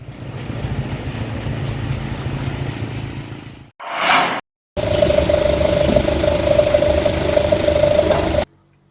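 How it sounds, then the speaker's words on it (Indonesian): A chainsaw run by a rapid-response disaster crew in Samarinda cuts through a fallen tree trunk, droning loudly and steadily, cutting out briefly, then roaring again with a higher whine before stopping abruptly. "Menggunakan gergaji mesin, tim reaksi cepat BPBD Samarinda Sabtu siang menyingkirkan batang pohon tumbang"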